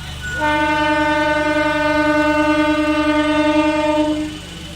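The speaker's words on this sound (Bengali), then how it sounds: "এই মুহূর্তে ট্রেন কিন্তু বাঁকুড়ার উদ্দেশ্যে রওনা দিল" A train horn sounds one long, loud, steady blast lasting about four seconds, close by, as a train sets off from Jayrambati for Bankura on the newly inaugurated Singur–Jayrambati line.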